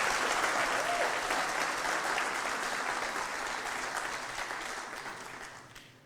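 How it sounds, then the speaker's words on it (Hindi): An audience at a poetry recitation with piano claps warmly, a dense wash of applause that gradually fades away over about six seconds. "तो सबसे पहले तो उनके लिए तालियां बजा दीजिए"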